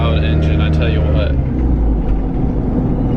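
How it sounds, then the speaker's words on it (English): Loud car engine droning steadily while driving, a deep rumbling hum with someone talking over it through the first part. "listen to that loud engine, I tell you what"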